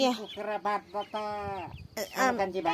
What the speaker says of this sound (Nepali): दिदीको कुखुरा